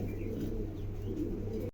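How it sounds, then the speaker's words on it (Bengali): A pair of pigeons coo softly and steadily against a low, constant background hum, the calls faint and close together over a short span. "চমৎকার এক জোড়া কবুতর"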